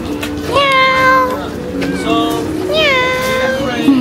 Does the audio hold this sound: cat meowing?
yes